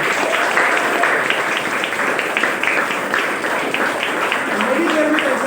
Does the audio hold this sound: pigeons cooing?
no